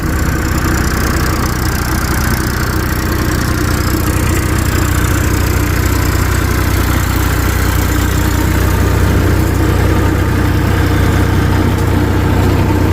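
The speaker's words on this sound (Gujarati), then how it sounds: "આ થેસરમાં ટ્રેક્ટર પણ નોર્મલ ચાલી રહ્યું છે" A tractor running a cumin thresher gives a steady, loud engine drone with a deep low rumble and constant mechanical hum, unbroken throughout, with no voices.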